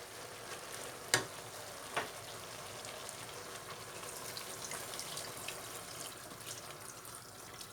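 Water pours into a pan of simmering green beans and tomatoes, a steady splashing hiss with a couple of sharp clinks near the start, no voices.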